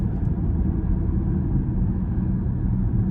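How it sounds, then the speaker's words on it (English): A Range Rover Sport with a 3-litre diesel engine rumbles at idle, a steady, deep, low-pitched throb heard close up and continuous, with no voices. "It's quite a rumbly engine."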